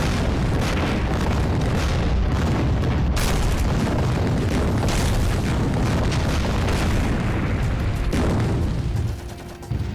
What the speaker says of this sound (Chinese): 炮声啊！